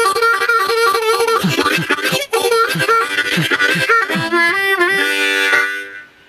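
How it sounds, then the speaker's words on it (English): Harmonica played in a rhythmic chugging pattern, breathy chords pulsing steadily in and out before ending on a held chord, loud and close with no voices. "Lesson number 2, rhythm harmonica,"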